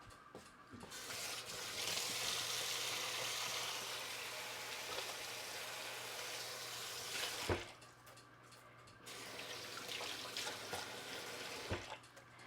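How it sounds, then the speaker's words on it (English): A kitchen sink tap runs steadily with water splashing as hands are washed, close and moderately loud, briefly stopping about two-thirds through before flowing again, with small clunks near the end. "I just need to wash my hands."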